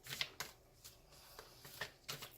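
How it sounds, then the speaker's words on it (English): Quick bursts of papery riffling as tarot cards are shuffled, a few separate shuffles with short pauses between, fairly quiet and close, no voices. "I'm going to go ahead and shuffle again"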